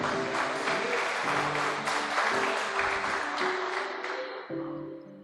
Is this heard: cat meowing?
no